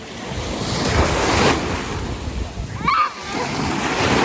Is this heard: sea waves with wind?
yes